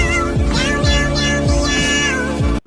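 A cat NPC in the video game Forsaken meows repeatedly, several drawn-out, loud, close cries in a row that end abruptly into silence.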